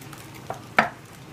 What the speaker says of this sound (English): we're going to mix all this stuff together